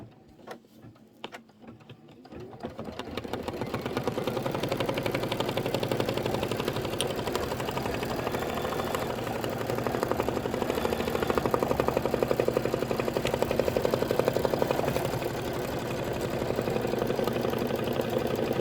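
A Kimberbell embroidery sewing machine stitches the tack-down and detail pass on fabric and vinyl for a bench pillow. After a few quiet seconds it starts up into a loud, steady, rapid mechanical chatter that runs on without a break.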